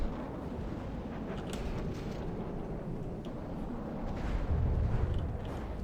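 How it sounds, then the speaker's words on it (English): Huge explosions from warships battling in the naval game From the Depths, a dense, continuous low rumble with scattered sharp blasts and a heavier boom swelling near the end, no talk. "Seawards doing well to cause huge explosions"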